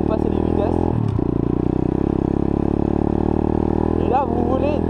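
A 125 YCF pit bike engine runs loud and steady up close, with a brief dip near one second as a gear is shifted, then it picks up again and carries on; a voice speaks over it.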